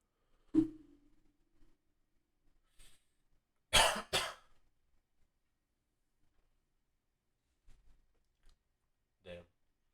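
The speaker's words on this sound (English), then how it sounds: "Coughing up a storm over here." A man coughs in a quiet room: one sharp cough early, then a loud double cough near the middle and a smaller one toward the end, separated by near silence and faint clicks.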